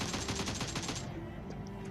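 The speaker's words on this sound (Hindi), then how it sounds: "अब जैसे ही मैं अंदर घुसता हूँ जंप फायर" A burst of rapid gunfire in a shooting video game rattles for about a second during a jump, then stops, leaving faint game ambience.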